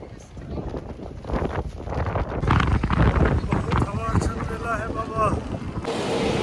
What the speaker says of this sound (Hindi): बहुत ज़ोर से हवा चल रही है, बहुत ठंड है